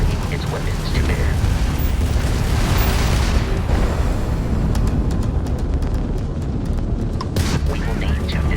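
Crimson Fleet ship weapons open fire in space combat, dense booming blasts and bursting explosions rolling continuously and loud, with sharp crackling pops toward the end, no voices.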